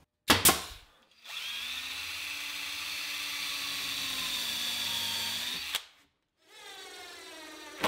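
Cordless drill driving 1 5/8 inch screws into a TV lift cabinet near the hinge, with a brief burst, one long steady whir and a final run-up, loud and close with no talking.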